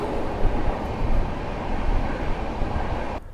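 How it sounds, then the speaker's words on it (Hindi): A train overtaking the Barauni Bandra Avadh Express makes a steady, loud rumble and clatter of wheels on rails from close by, with no voices. "चले यहां पर हम लोगों ने ओवरटेक कर दिया है बरौनी बांद्रा अवध एक्सप्रेस को।"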